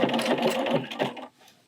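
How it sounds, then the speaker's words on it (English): A sewing machine stitches a quilt block in a fast, close mechanical whir that runs steadily for over a second and then stops abruptly, leaving near silence. "I'm going to go over the first stitch with the last stitch to lock it in place, and then one reverse stitch."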